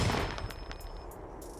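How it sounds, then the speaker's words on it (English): Gunshot sound effect dropped into a music beat, with a few sharp, loud bursts close together near the start and softer repeated cracks over a steady backing. "Play the gunshot now."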